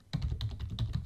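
A search being typed on a computer keyboard, with a quick, steady run of close, distinct key clicks.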